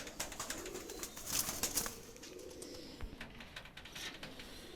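A low, rolling coo from Pakistani high flyer pigeons sits under busy clicks, rustles and scattered bird chirps, close by and moderately loud, with some handling noise around the birds.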